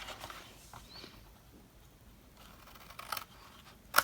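Scissors cut paper for a Ferrero box craft with short, quiet snips and crisp rustles up close, ending in a sharper snip, with no talking.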